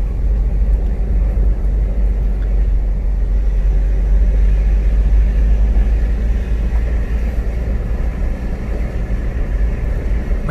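A car driving along a road, heard as a loud, unbroken low rumble of engine and tyre noise that holds steady throughout, with no talking.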